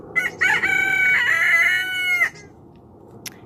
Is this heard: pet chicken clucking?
yes